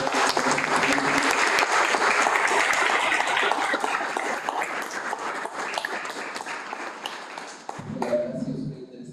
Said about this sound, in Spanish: quiero que tengan un aplauso para los tres